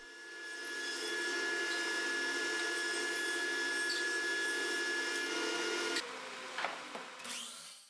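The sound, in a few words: thickness planer planing wood to final thickness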